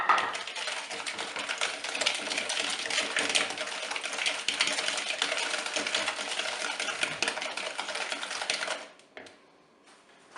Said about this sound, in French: je vais mélanger le jaune d'œuf et l'œuf avec le sucre